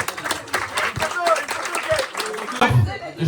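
A small group clapping at a senior sports club's end-of-season trophy party, scattered uneven claps mixed with voices and chatter, fairly close and moderately loud.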